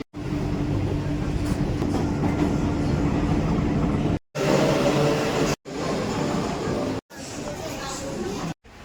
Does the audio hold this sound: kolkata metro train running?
yes